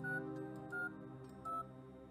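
A telephone in the game Fran Bow beeps faintly as a number is dialed, three short tones spaced evenly over a low steady background hum.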